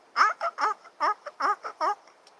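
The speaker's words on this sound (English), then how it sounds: "I was hearing the Canadian geese" A series of honking Canada goose calls, six or seven harsh rising notes in quick succession, fairly close and clear.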